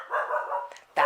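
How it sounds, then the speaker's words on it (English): A dog barking indoors at home, with a drawn-out bark or whine followed by a sharp bark at the end, close and moderately loud. "That is my dog"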